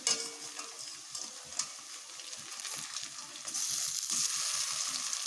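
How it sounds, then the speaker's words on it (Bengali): Paneer cubes frying in a pan give a close crackling sizzle with scattered spits and pops, growing a little louder and denser toward the end; no one speaks. "এইভাবে আমি লাল লাল করে পনিরগুলোকে ভেজে নিচ্ছি"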